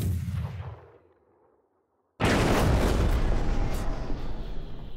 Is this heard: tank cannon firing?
yes